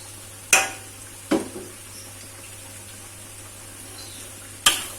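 Celery, onion and lemongrass stirred in a cooking pot, with three sharp scraping clatters of a utensil against the pot spaced apart over a quiet background hum.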